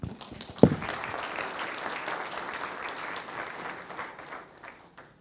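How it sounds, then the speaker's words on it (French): Applause from the audience at a hospital New Year's greetings ceremony, opening with a sharp near clap, then steady clapping from a crowd that holds for several seconds before tapering off. "Ah, on les applaudit"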